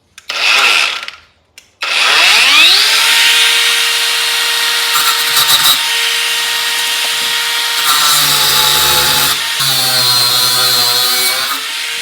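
Power drill boring deep into a wall to set threaded rod for large load-bearing posts, loud and steady with a rising whine as it spins up, a few pauses and pitch shifts as the bit bites, no talking.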